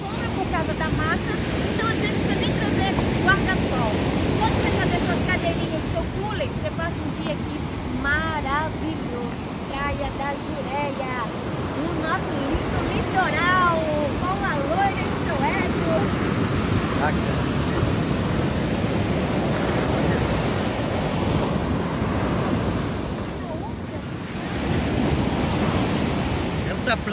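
Waves wash steadily onto a beach with wind buffeting the microphone, under a voice talking throughout.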